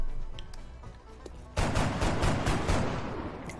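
Gunfire in XCOM: Enemy Unknown, a burst of repeated loud shots that begins abruptly partway through and rolls on as a dense fusillade, following a quieter stretch with faint voices.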